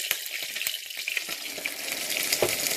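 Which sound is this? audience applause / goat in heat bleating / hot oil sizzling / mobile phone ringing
hot oil sizzling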